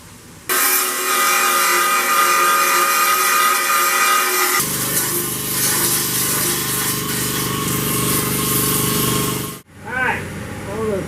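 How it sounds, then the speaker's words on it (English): Power grinder working on a Corvair front valance, a loud continuous high-pitched whine that drops in tone partway through, then cuts off and briefly spins back up near the end. "got a little grinding to do here and there"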